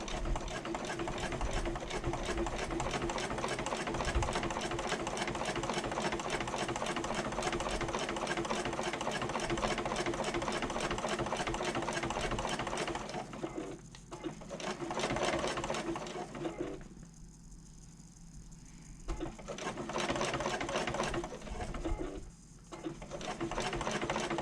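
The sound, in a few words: sewing machine stitching along the bottom of a bag liner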